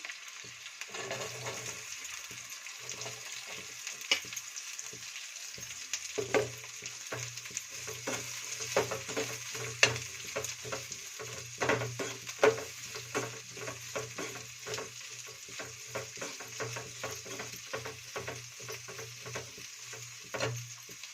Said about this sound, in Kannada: ಇದನ್ನು ಚೆನ್ನಾಗಿ ಬಾಳ ಹುರ್ಕೋಬೇಕು. ಎಣ್ಣೆ ಎಲ್ಲ ಮೇಲೆ ಬರಬೇಕು, ಆ ಥರ ಹುರ್ಕೊತಿದ್ದೀನಿ.